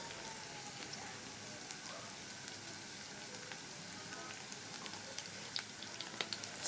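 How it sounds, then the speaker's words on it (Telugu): Seasoning frying in a pan for fenugreek-leaf dal with dried red chillies, a steady faint crackling sizzle with scattered small pops and no voices. "ఇప్పుడు ఈ వేగుతూ ఉంటాయి."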